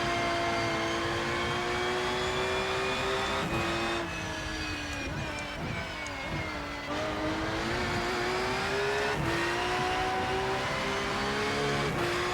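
Porsche race car engine in RennSport racing game, a loud sustained high-revving drone that shifts pitch through gear changes and braking dips, heard alone.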